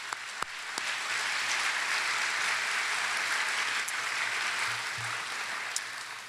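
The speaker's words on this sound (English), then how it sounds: "So if all would just join me in a round of applause for that large group of people" Audience applause at a high school senior awards evening, a steady wash of many hands clapping held at an even level from start to finish, with a few sharper claps standing out near the start.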